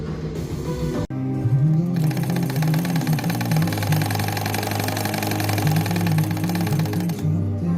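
A sewing machine stitches steadily and loudly, its rapid running hum continuous for most of the stretch after a brief start, with a short pause near the beginning.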